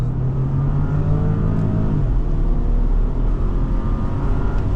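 A 2019 Porsche Cayenne engine revs and roars as it accelerates hard, a loud steady rumble that shifts pitch midway, close up with no talking.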